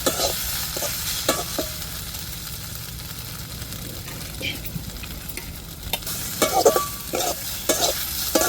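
Spices tempering and ground masala paste frying in a pan, a steady crackling sizzle throughout with recurring scrapes of a spoon stirring, close and moderately loud, with no talking.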